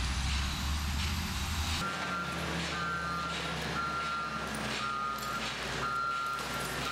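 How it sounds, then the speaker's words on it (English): A bulldozer at a Santa Cruz recycling facility sounds a steady series of reversing beeps over a continuous rumble of heavy engine and yard noise, with no talking. "A bulldozer pushes the recyclables onto a large conveyor belt."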